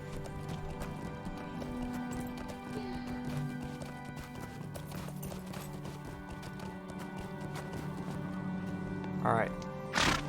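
Goat mount's hoofbeats in the Lord of the Rings Online video game, a steady clip-clop running the whole time beneath sustained game music, with a brief louder burst near the end.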